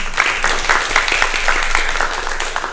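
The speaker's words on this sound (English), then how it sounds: "Big applause, please." An audience at an ESN Croatia national platform meeting gives big, sustained applause, many hands clapping steadily at close range with no pause.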